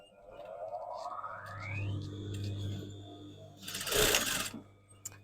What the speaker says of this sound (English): I'm just going to basically stitch round where I've just done it on the sleeves and down the sides.